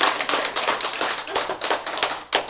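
Clapping from an audience at a Korean lecture on genetics, a burst of many hands striking in quick irregular bursts at close range, with faint talk mixed in.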